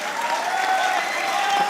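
Steady audience clapping from a crowd at a live Hindi comedy show, dense and continuous throughout without any talk over it.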